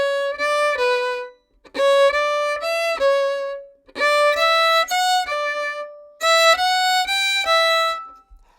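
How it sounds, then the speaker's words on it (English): A violin plays four phrases of four notes in a short-long rhythm during a lesson on a bourrée excerpt. The bowed tone is close and steady, with brief gaps between the phrases. "Also do the opposite. I'd go short,"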